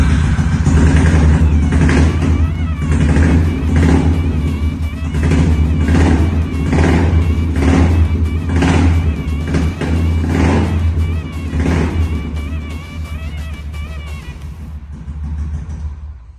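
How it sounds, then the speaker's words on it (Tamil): Engine of a 2005 Batman edition vehicle revving steadily and loudly up close, a deep rumbling exhaust note rising and falling in regular surges before easing off near the end, with no voices. "இதோட எக்ஸாஸ்ட் நோட்டு கேளுங்க"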